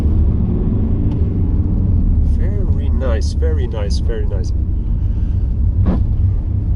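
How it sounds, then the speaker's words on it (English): Steady low engine and road rumble fills a car cabin as the car gathers speed at about 30, with someone briefly speaking over it mid-way. "And now the gas response. I'm driving nearly 30 now."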